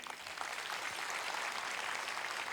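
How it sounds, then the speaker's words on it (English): An audience at a live talk event applauds with a dense, steady roar of many clapping hands, sustained and even at a moderate level throughout, with no voices standing out. "One big round of applause for him."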